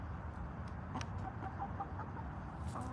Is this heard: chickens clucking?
yes